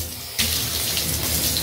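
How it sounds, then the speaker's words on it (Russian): Cold tap water gushes from a faucet into a vase, starting abruptly after a brief quiet moment and then pouring steadily with a close, splashy rush. "Так, набираем просто воду, и она должна форму вазы принять."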